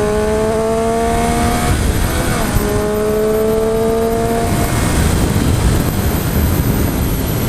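A 2014 Street Triple R motorcycle being ridden gives a loud, steady engine drone. The pitch dips and climbs again as the rider shifts, all under heavy rushing wind noise with no talking.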